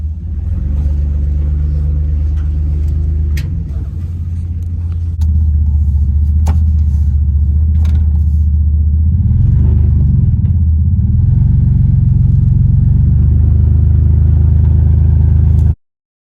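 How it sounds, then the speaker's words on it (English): A 1975 square body mud truck fitted with a 1996 engine rumbles steadily while backing up into a garage, a loud, close, continuous idle with a slight rise in revs partway through, cutting off abruptly at the end. "we're about to back up. Get the mud truck pulled to the garage."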